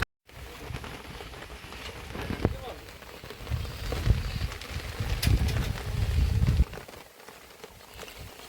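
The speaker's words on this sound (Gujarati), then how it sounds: "વરસાદ આવી ગયો." Rain falls steadily on a farm field, a dense patter that swells and fades over several seconds, with a pigeon or dove cooing faintly now and then.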